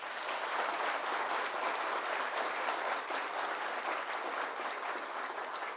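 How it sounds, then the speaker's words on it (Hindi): A large audience applauds loudly at a motivational seminar, a dense, steady wash of many hands clapping that holds without a break from start to finish. "अपने आप के लिए जोरदार तालियां बजाइए।"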